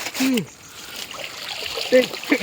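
Water splashes and trickles as crabs caught in a village are washed by hand, in short bursts mixed with brief spoken voices.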